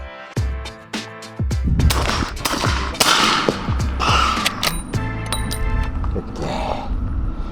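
Repeated gunshots from a .45-70 rifle strike a steel target about 30 yards out, each loud crack followed by a ringing metallic ping off the plate, with several shots spaced through the stretch and faint voices in the background.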